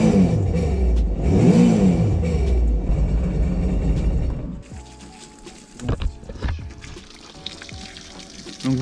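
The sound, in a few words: Sea-Doo GTI 155 SE 2019 jet ski engine started and revved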